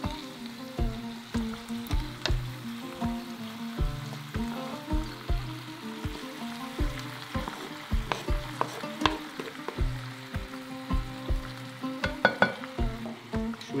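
Chicken browning in a pan for a Moroccan wedding-style tagine, a steady close sizzle and crackle of frying with occasional clinks and stirring knocks throughout.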